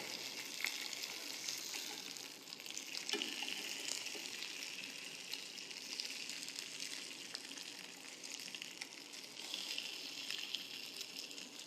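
Fish fillet pancakes frying in a pan during a Korean cooking lesson, a faint but steady, even crackling sizzle that runs throughout with little change.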